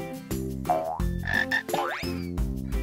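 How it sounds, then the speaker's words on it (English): A cartoon frog croaks in a children's sign-language show, with several loud, close, bouncy croaks set over bright musical tones and sound effects. "Frog."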